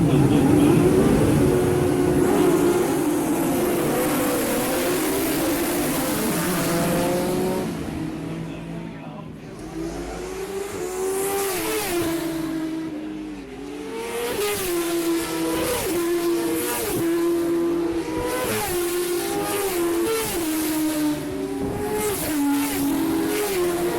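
Aprilia RS660 racing motorcycles screaming around the Oliver's Mount track, engines rising and falling through gear changes as bikes pass continuously, loud and close throughout.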